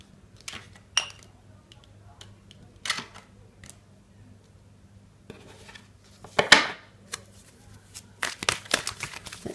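Tarot cards being shuffled and handled, with scattered short papery riffles and taps, some soft and a few louder bursts, separated by quiet gaps and close to the listener.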